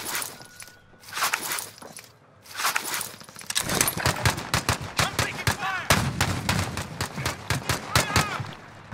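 Incoming gunfire in Call of Duty Modern Warfare cracks in rapid bursts of sharp shots, scattered at first and then a dense, loud run of repeated hits in the second half.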